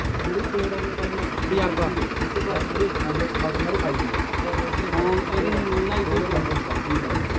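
A tractor engine chugs steadily at idle with a regular, knocking rhythm, fairly close and continuous for the whole stretch.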